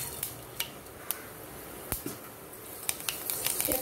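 Fenugreek seeds sizzle in hot oil with fennel seeds in a pan for Tamil fish curry, a soft steady fry broken by faint clinks and scrapes of a stirring spoon.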